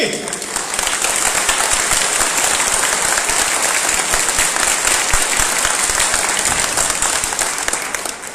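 A large audience at a public speech claps loudly and continuously in a dense roar that stays steady for several seconds, with a voice faintly under it.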